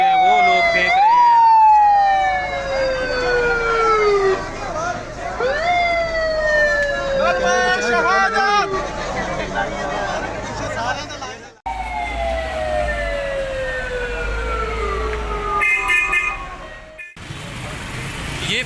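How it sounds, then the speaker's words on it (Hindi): A loud ambulance siren wailing in repeated sweeps as the ambulance pulls away near Faisal Masjid Chowk, with crowd noise and voices underneath. "एम्बुलेंस यहाँ से रवाना हो रही है"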